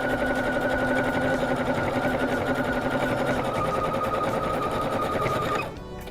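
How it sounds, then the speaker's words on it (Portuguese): A sewing machine stitches elastic onto fabric in red thread, a fast continuous mechanical rattle that runs loud and close without pause, then cuts off abruptly near the end. "Eu tô costurando com vermelha para ficar bem visível"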